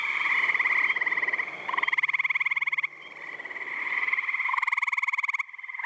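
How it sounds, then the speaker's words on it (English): Great tree frogs calling at night by a pond in northwestern Connecticut: a dense, continuous chorus of loud, rapid pulsed trills, overlapping and swelling in waves, with no talk. "Great tree frogs also have a very distinctive call."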